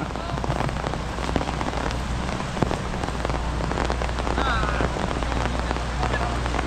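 Steady rain pours down onto surfaces, a dense continuous hiss with scattered drips, close and fairly loud throughout.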